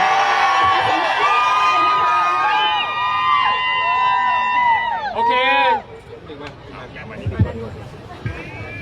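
A large crowd at a political rally in Nakhon Pathom cheers and shouts loudly and continuously with high whoops, then drops suddenly to a quieter murmur with scattered shouts.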